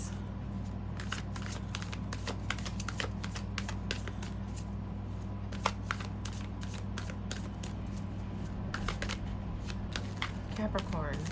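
Tarot cards are shuffled over and over in quick, crisp riffling bursts close to the mic, with a steady low hum underneath and someone speaking throughout.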